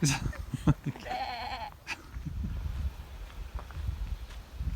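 A single wavering bleat from a nearby sheep or goat rises over wind and outdoor rustling, with people speaking briefly around it.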